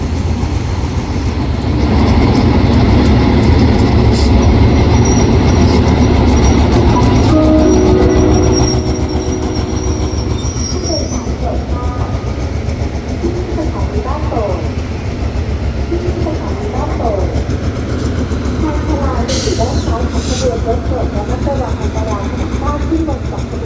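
Trains pulling into Ban Pong station in Thailand, an ordinary train and a rapid train: loud, continuous rumble of rolling stock with wheel squeal and brake noise, then quieter station ambience with a voice in the background.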